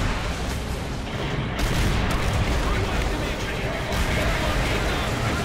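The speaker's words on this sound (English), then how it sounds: "I destroyed this tower and made it watch it fall." Tower destroyed and collapsing in Call of Duty: World at War, a dense, continuous roar of crumbling rubble and rumbling blasts, loud and sustained with a brief dip, mixed with battle noise.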